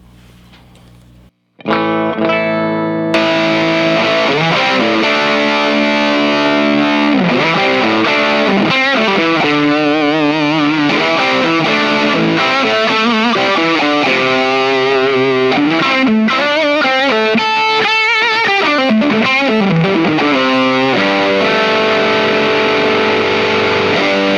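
Heavily distorted bass guitar through an Orange Bass Butler preamp playing a riff, loud and continuous, with a fuzzy, gritty tone and a slight lift in level partway through as a boost pedal engages.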